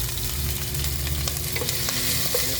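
Pork for igado menudo sizzles and fries in a pan while being stirred, a constant close hiss with occasional scraping clicks of the utensil, no talk.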